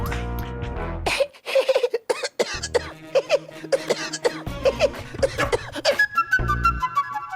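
A man coughs on request in a Hindi domestic comedy scene, a short series of forced, throaty coughs against a backdrop of tonal background music.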